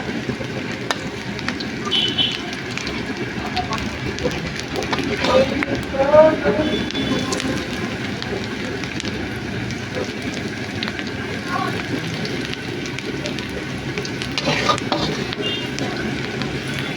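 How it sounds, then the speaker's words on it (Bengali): Radhuni spice seeds frying in oil beside onions, a steady low sizzle and crackle with faint scattered pops, close by, heard under someone talking throughout. "পেঁয়াজটাকে আমি এক পাশে রেখে রাঁধুনিটাকে ভেজে নেব।"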